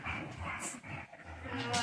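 Several dogs play-fight with scattered yips, whimpers and short barks mixed with scuffling, heard under a person's ongoing talk.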